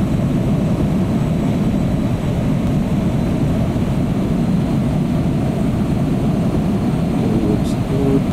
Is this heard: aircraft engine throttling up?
yes